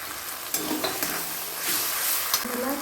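Ground ginger paste sizzles in hot oil in a pan as it is stirred, a steady close frying hiss broken by soft scraping strokes, with no voices.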